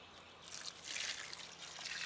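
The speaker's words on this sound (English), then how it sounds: "So I'm going to pour the water in and then check the drain" Water trickles and drains out of a black soldier fly composter as it is flushed, a faint, steady hissing dribble that swells slightly after the first half second and continues evenly.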